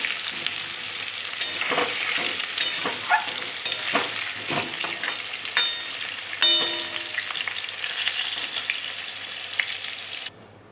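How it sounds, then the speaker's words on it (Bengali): Potatoes frying in a pan for a home-cooked Bengali meal, a steady close sizzle with intermittent stirring scrapes and clicks running throughout, no talk. "ততক্ষণ এখানে আলুটা ভেজে নিই"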